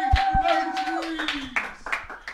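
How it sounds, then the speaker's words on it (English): A few people clapping briefly, uneven sharp hand claps over a short stretch, with voices talking and exclaiming at the same time. "clap it up."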